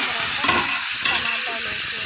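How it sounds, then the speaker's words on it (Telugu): Onions, green chillies and curry leaves fry in hot oil with a loud, steady sizzle and hiss, broken by brief stirring scrapes. "ఆనియన్స్, పచ్చిమిర్చి, కరివేపాకు వేసి బాగా ఫ్రై చేసుకోండి"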